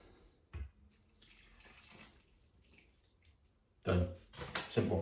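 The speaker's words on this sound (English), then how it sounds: "And now 300 milliliters of water." Water is poured into a bread bun mixture in a bowl, with faint splashing and trickling, a soft thump early on, and louder pouring bursts near the end.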